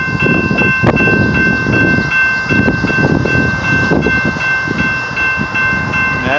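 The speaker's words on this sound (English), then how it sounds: "So this train is sitting in the yard, in the south yard" A train rumbles steadily nearby with sustained high tonal squeals or hums and scattered clanks, a busy rail-yard sound with no talking.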